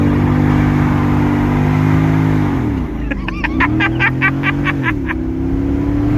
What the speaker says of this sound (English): He has now done a burnout.